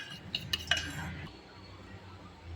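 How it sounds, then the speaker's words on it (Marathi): A few sharp clinks of a whisk or spoon against a bowl open the scene as curd is beaten into semolina batter for a simple rava pineapple cake, then fade to soft mixing under a low background hum. "दही घालून हे मिश्रण चांगले फेटून घ्यायचे आहे."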